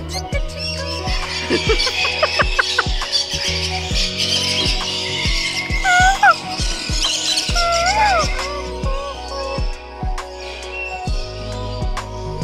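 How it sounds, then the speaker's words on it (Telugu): Lovebirds in an aviary at a bird and butterfly garden give sharp high chirps and squeaky calls, several birds near and overlapping, over a steady run of fast clicking or ticking from something nearby. "ఇవి వచ్చేసి లవ్ బర్డ్స్."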